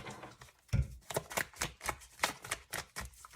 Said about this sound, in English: I'll usually just put them back and continue to shuffle.